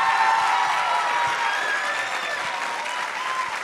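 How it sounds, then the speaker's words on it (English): Steady, dense applause from an audience at a school talent evening for the contestants, a continuous wash of many hands clapping at even loudness for the whole stretch with no voices on top. "So let's give them one more round of applause."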